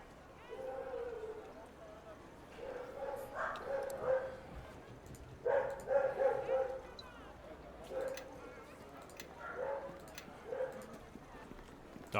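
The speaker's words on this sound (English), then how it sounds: "Dogs are barking." Dogs in the fantasy RPG Neverwinter Nights bark in repeated bursts, moderately loud and slightly distant, over a low ambient hum.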